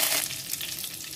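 Curry leaves sizzling and crackling in hot oil in a kadai, tossed in after fennel seeds for tempering cauliflower pepper fry, a loud, close, bright hiss that settles slightly after an initial burst.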